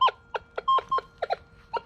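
Minelab Equinox 800 metal detector in Multi-Gold mode 2, giving a rapid string of short electronic beeps and tones, some sustained briefly, at an uneven rhythm, close and clear with no talk.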